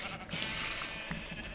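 A sheep in a blocky survival video game bleats once, a short wavering call heard clearly over light background noise.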